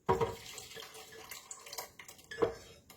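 Liquid poured into a high-speed blender in a kitchen, a soft, close splashing trickle with a few sharper splashes, quiet overall and with no voices.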